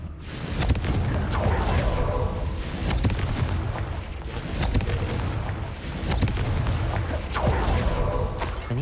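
Repeated booming blasts from the Confringo fire spell in Hogwarts Legacy, a spell cast at a giant spider, roll out in heavy low-frequency thuds with rumbling tails, loud and close, several in a row.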